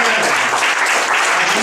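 A congregation claps loudly for the Lord during a church service led by Pastor Rafael Cabrera, a strong, sustained burst of applause with a faint voice underneath.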